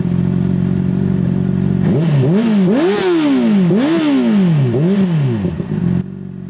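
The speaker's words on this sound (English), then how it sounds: "this is kind of what it looks like when you rev her up, give her some beans" A Honda CBR600RR motorcycle engine idles close by, then is revved repeatedly in quick rising-and-falling bursts before it settles back to a steady idle.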